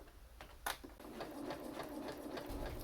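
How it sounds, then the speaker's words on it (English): A sewing machine stitches along the edge of a dog toy made from old jeans, a quick steady needle chatter running close by after a couple of sharp clicks. "we going to sew in the edge, and we can start for the opening side"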